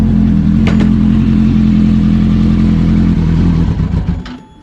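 A 2008-2010 Kawasaki ZX10R motorcycle engine idles loud and close after maintenance, a steady throbbing hum with a faint clatter, then cuts off and dies away near the end.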